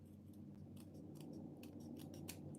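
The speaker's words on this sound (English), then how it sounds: "with scissors when it's a really tiny edge." Scissors snip through a small edge of paper in a run of quick crisp cuts, close and fairly quiet over low steady room hum.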